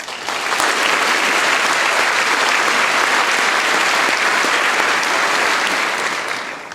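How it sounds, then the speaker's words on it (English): A large audience at a high school graduation ceremony claps steadily and loudly for parents and families, a dense sustained wash of applause that swells in and tapers slightly at the end. "how about giving them all a warm round of applause"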